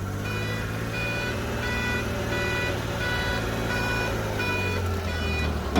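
A kei truck used as an agricultural vehicle sounds its reversing beeper: a loud, close, evenly repeating run of short beeps over a constant low engine idle, with no talking.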